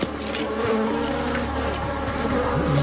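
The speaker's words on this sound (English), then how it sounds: "now you can hear the thousands of bees in there" A dense, steady buzzing of thousands of bees in a hive close by, a continuous droning hum with no voices.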